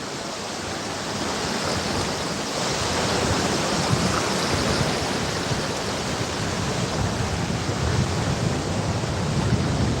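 Waves roll onto the shore at Indian Rocks Beach at low tide, a steady, fairly loud broadband surf wash that continues throughout with no speech.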